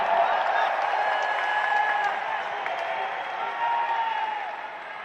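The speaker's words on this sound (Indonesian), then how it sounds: "Beri tepuk tangan untuk Mas AHY." A crowd at an Indonesian political gathering applauds the Partai Demokrat chairman, AHY. Sustained clapping and crowd noise with occasional cheers carry on steadily, then ease off slightly toward the end, with voices mixed in.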